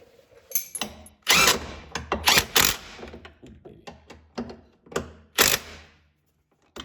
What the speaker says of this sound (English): just tighten that down, starting with your 2 bolts in the back